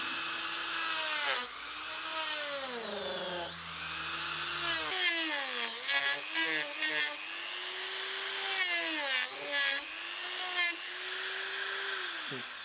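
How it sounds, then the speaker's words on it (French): A power cutting tool works into a calabash gourd, its high, whining motor rising and falling in pitch as the load changes, with a steady buzzing drone close by. "je vais utiliser l'appareil pour la découpe maintenant"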